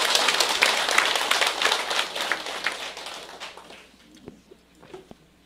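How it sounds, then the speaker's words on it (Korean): An audience at a seminar claps in a brief burst, loudest at first and then fading to a few scattered claps by the end. "그럼 박수 한번 쳐봐요."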